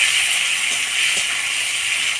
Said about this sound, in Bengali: টমেটো কুচি দিয়ে আর একটু ভাজা ভাজা করে নেব